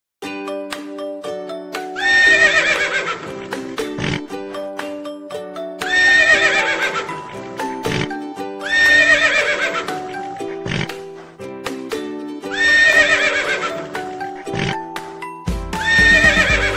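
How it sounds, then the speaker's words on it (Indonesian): A horse neighs in four repeated loud whinnies over a looping background music track, each call rising and trailing off. "Kuda."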